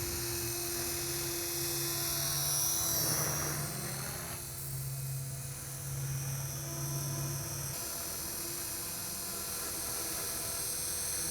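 A helicopter in an inverted hover at 65% rotor RPM gives a steady whining buzz with a tonal drone, close and continuous, swelling briefly near the start before settling.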